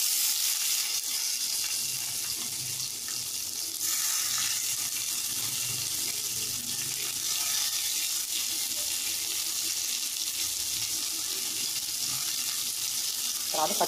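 Onions fry in a pan for munakkaya curry with a constant, even hiss of sizzling oil that stays loud and steady from start to finish.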